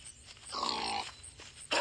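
Short, rough warthog grunts from The Wolf video game, heard as a burst of snorting calls near the middle, followed by a louder noisy rush at the end, with no talking.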